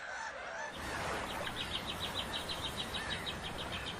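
Hungry seabirds crowd a cormorant colony on an island, their rapid, repeated high calls rising over a steady, noisy wash of the surroundings.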